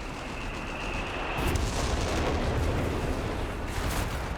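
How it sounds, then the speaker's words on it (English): A heavy artillery barrage in the Company of Heroes 3 video game, during a 4v4 match, rumbles as a dense, continuous wash of blasts. It swells louder partway through and keeps pounding without pause. "Oh, big Westbed barrage there."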